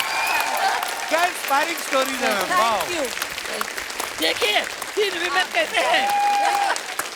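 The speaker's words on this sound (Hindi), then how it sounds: "खड़े होकर तालियां बनती है." Audience applause on a television comedy talk show, a standing ovation with clapping and cheering that runs steadily underneath several people talking and laughing in the foreground.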